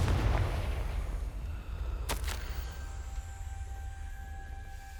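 A single sharp blast from a Confringo spell in the video game Hogwarts Legacy, a brief crack over a low ambient rumble, followed by a faint ringing tone.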